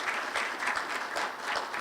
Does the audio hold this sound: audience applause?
yes